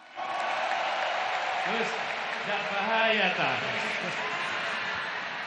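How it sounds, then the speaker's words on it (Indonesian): A crowd at a large political rally for Anies and Muhaimin claps in a broad, steady roar that starts abruptly and stays loud throughout, with a voice speaking over it partway through. "Luar biasa tepuk tangan untuk kita semua."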